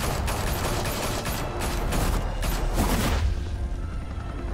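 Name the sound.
gunfire in the Batman Telltale Series video game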